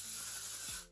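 Hairspray hisses from a can onto hair, one close, steady spray burst lasting under a second before cutting off, with no talk.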